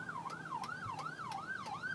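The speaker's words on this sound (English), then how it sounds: "I hear ambulance." An ambulance siren wails in a steady rising-and-falling cycle about three times a second, moderately distant and fairly faint, with low traffic rumble beneath.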